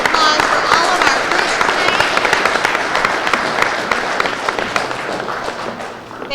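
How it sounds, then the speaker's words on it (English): Audience applause closing a 2019 Marshall University business model competition, a dense steady wash of many hands clapping that fills the room for several seconds with no voices on top. "one more round of applause for all of our"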